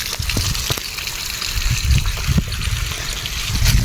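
Water gushing and splashing close by while a dirty vehicle is washed, a loud continuous rush with irregular splatters and low thumps, with no talk.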